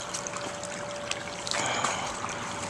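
Water trickles and splashes continuously into a 5-gallon drum tank for a floating raft tomato bed, a soft steady dribble that swells slightly midway, with no speech.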